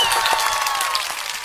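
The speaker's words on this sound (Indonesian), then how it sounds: "Oke, tepuk tangan dulu." A live podcast audience at a university faculty event applauds. The clapping is dense and steady, with faint cheering mixed in throughout a brief burst.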